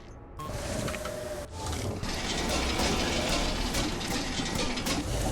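In the video game Viscera Cleanup Detail, an elevator mechanism runs with a steady mechanical grinding and whirring, with clicks and clanks mixed into a loud, continuous texture.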